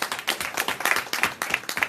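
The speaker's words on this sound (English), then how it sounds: "Give her a good round of applause." An audience at a business talk claps in a brief burst of applause, its individual rhythmic claps clearly separated.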